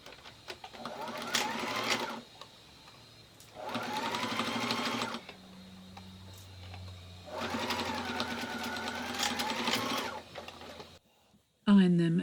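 Domestic sewing machine stitching Victorian waistcoat pieces, three bursts of rapid whirring stitching separated by quiet pauses with a low motor hum, ending in a short loud clunk.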